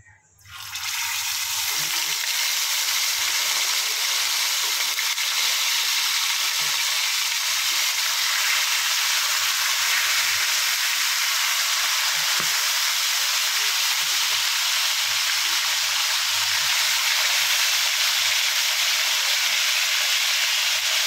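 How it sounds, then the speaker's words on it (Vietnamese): Fish frying in a pan over low heat gives a loud, steady sizzle and hiss that starts abruptly and continues unbroken for about twenty seconds. "Mình chiên cá lửa nhỏ, cá sẽ vàng và giòn hơn nha mọi người"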